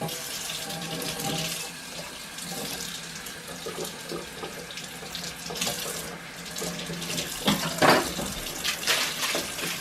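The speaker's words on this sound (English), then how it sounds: "if I warm the knife up with warm water, it usually helps slide it around a little bit better" A kitchen tap runs warm water over a knife, a steady close splashing stream into a sink with small shifts as the blade moves under the flow.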